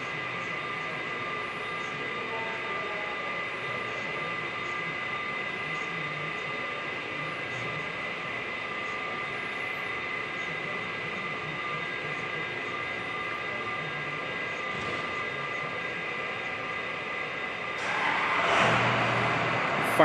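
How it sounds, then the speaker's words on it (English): An aircraft tug's engine running at an aviation museum, a steady droning idle with a high whine layered on top, holding even for a long stretch before a louder surge of revving near the end. "Firing up the tug again."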